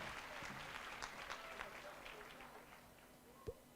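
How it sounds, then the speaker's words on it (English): Steady applause from a seated audience at a bursary awards ceremony, many hands clapping in a dense, even wash that holds throughout before easing slightly near the end. "Our round of applause, ladies and gentlemen."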